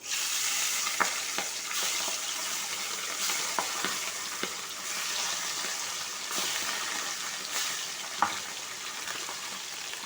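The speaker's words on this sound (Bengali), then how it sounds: "প্রথমেই কাতলা মাছগুলোকে আমি ভেজে নিচ্ছি।" Pieces of katla fish, rubbed with salt and turmeric, fry in hot oil in a pan. They make a continuous close sizzle with scattered sharp spatter clicks.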